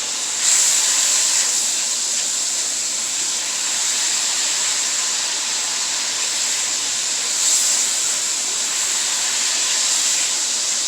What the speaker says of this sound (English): I want to move it continuously so that it doesn't stick to the wok